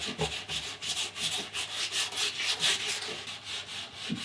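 Wet sanding the gloss-coated resin of a surfboard with superfine sandpaper, a close, quiet, rhythmic rubbing in steady back-and-forth strokes with no talk.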